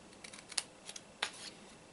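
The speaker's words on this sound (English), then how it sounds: "And then you'll cut this side off." Scissors snip the side off a paper backpack-style treat box, giving a handful of faint, quick cuts at an uneven pace, alone and without talk.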